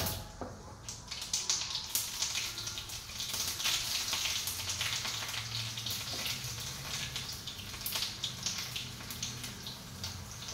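Cumin, mustard seeds, garlic and turmeric temper in hot oil in an iron pan, giving a dense, steady crackling sizzle with small spits and pops throughout.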